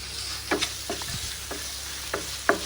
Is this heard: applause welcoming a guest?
no